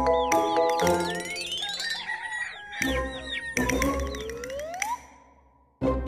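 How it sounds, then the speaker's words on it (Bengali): A hen clucks in sharp, repeated bursts, loud and close, with rooster-like crowing calls and a few bright chime tones between them. "মুরগি কেমন করে ডাকে?"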